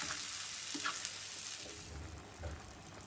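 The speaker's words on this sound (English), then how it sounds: "and the pureed tomatoes. Give it a quick mix." Pureed tomato mixture for homemade pizza sauce cooks in a pan, giving a constant soft sizzle under a few light stirring scrapes, near and alone without speech.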